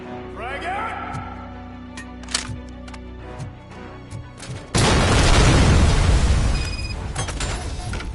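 A game character's voice with electronic beeps leads into a sudden loud grenade blast in RoboCop: Rogue City, followed by a long, dense roar of debris and rumble that slowly fades.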